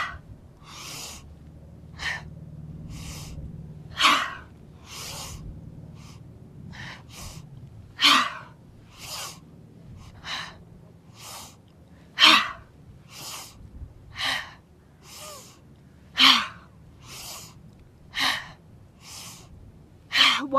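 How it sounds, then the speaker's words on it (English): Heavy rhythmic breathing in a yoga class, a steady series of forceful inhales and exhales roughly every second, close and clear over a faint background. "Let the breath be heavy."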